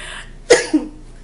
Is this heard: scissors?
no